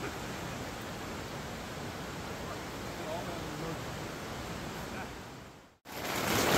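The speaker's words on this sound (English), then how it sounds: "It is downright pouring right now." Heavy, steady downpour of rain roars as a dense, even wash close by, continuing for several seconds before a brief dropout, then resuming.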